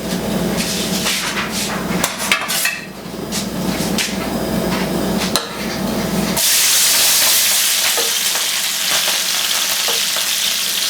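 Tomato, cilantro, garlic and onions for a chile relleno sauce drop into hot oil in a pan. A steady low sizzle under light clatter jumps to a loud, bright hiss that holds to the end, with no talking.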